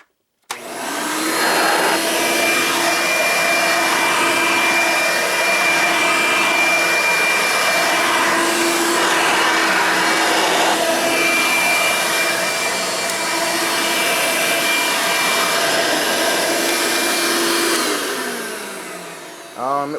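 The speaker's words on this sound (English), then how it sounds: "here's the Hoover" A Hoover Elite 6.0 vacuum cleaner starts up and runs with a steady, loud motor whine and airflow roar for the whole stretch, then winds down at the end.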